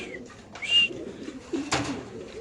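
Large white racer pigeons coo in short, throaty bursts at a pigeon farm, close by, with a few sharper chirps and rustles between the calls.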